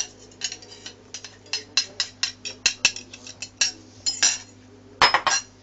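Mixing cooked round rice with tomato sauce and beaten eggs for arancini, a steady series of sharp spoon-against-bowl clinks and scrapes, close and rhythmic, with no voice.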